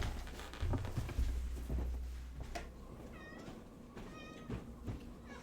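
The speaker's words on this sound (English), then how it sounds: "I hear the cat, so I'm assuming it's the cat." A house cat meows a few times in the background, faint and brief, over a low rumble of room and game noise.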